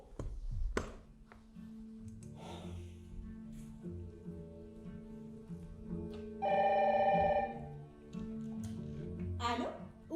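A telephone bell rings in a bursts of tonal trilling around the middle, loud and close, set against a quiet room with a low steady hum and scattered small knocks and movement.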